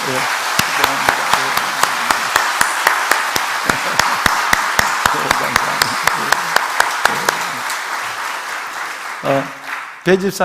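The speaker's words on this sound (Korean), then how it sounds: "우리 한 박수 한번 치면 어떨까요?" A church congregation claps together in steady, sustained applause throughout a Sunday worship service, the clapping fading near the end as a voice begins speaking.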